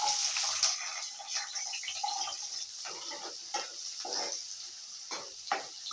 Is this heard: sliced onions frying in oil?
yes